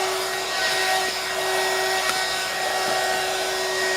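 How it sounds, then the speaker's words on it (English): A hair dryer blows steadily at close range, a continuous breathy whoosh with a faint motor whine running underneath the whole time. "turn your hair dryer on"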